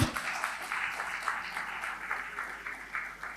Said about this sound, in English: I would like to see them welcomed by all of you with a huge round of applause